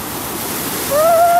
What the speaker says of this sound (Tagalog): Puntahan naman natin guys ngayon ang dagat.